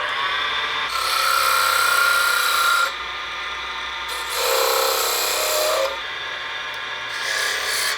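A tool cuts into spinning wood on a wood lathe while shaping a miniature baseball bat, a loud scraping, rasping hiss that comes in several passes with brief lighter gaps between cuts.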